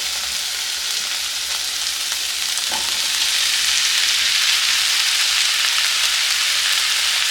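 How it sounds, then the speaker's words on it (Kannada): Sliced ivy gourd (tondekai) goes into a pan of frying onions, giving a steady, close, broadband sizzle that holds through the whole stretch with one brief stirring scrape partway in; no voices. "ಈಗ ಇದಕ್ಕೆ ತೊಂಡೆಕಾಯಿ ಹಾಕ್ಕೊತಾ ಇದ್ದೀನಿ"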